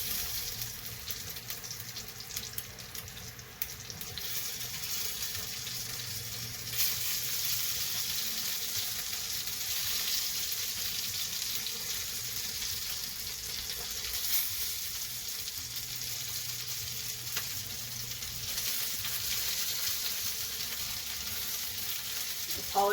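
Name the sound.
sizzling grease while frying noodles for German sour cream noodles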